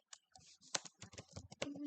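Command typed on a computer keyboard, a quick irregular run of close, crisp key clicks with short pauses between bursts, quiet and alone.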